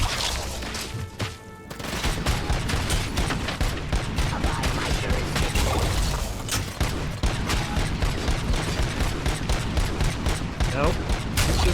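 Sustained gunfire fills a RoboCop: Rogue City firefight, dense bursts of shots crackling almost continuously for the whole stretch after a brief lull near the start, loud and close, with some speech mixed in.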